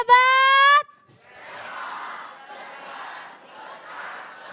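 Children gather in a crowd at a school campaign launch event in Indonesia and shout a slogan together. It is one loud cheer, heard after a short whistle-like tone and followed by more murmuring and shouting from the crowd.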